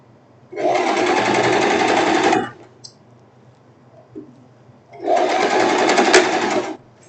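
A sewing machine stitches a straight seam on silk in two fast, even runs of a few seconds each, separated by a quiet pause with a faint click.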